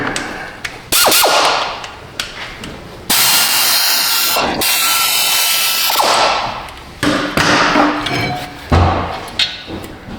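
An impact gun zips out caliper bolts on a Ford Taurus during a rear brake job, with several loud bursts of buzzing, whirring power-tool noise separated by short pauses and metallic clunks.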